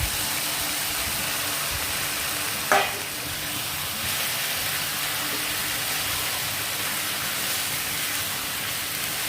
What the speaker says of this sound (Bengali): কচুর শাকটা তেলের সাথে ভালো করে নেড়ে মিশিয়ে নিচ্ছি।